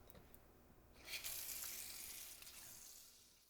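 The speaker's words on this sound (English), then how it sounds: "now we're going to get some hot tap water to make the bain marie." Hot tap water runs into a kettle in a kitchen to make a bain marie for crème brûlée, a faint hiss that swells suddenly into a steady rushing stream and then slowly eases off.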